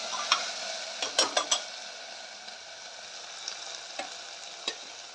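Potatoes frying in a pan hiss with a steady sizzle, broken by several sharp scraping clicks of stirring early on and a few softer taps later, close and fairly loud, with no talking.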